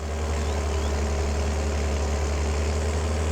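A tractor engine in the farming video game Farming Simulator 22 idles with a loud, steady, low diesel drone that holds unchanged throughout, close and alone with no talk.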